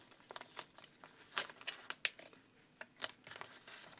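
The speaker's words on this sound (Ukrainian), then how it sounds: "Сьогодні ми відкриваємо ось цей пакетик з двома сюрпризами" Crinkly paper rustling in quick irregular bursts, close and fairly quiet, with sharper crackles in the middle as a paper surprise packet is worked open.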